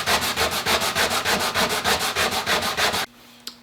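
A walnut burl shotgun stock from a Citori is sanded by hand in rapid, even back-and-forth strokes, about a dozen loud rasping passes in a steady rhythm before stopping abruptly, followed by a faint click.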